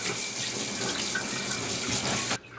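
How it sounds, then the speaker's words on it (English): A kitchen sink hose sprays a steady, hissing stream of water over a Shih Tzu at bath time, continuous and close, cutting off abruptly just before the end. "Just hosing down good,"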